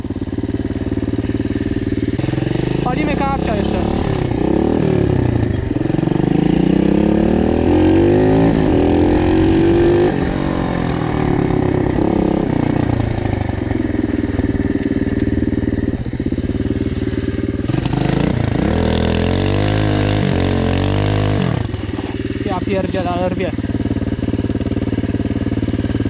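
A loud Loncin 110/125 motorcycle engine revs hard and repeatedly, pitch climbing and falling with each throttle burst, dropping to a rough idle between pulls, close by.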